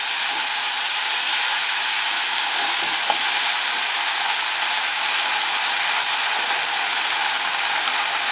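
Tomatoes with salt sautéing in a pan, a steady bright sizzle and crackle running evenly throughout with a faint scrape of stirring, no voices.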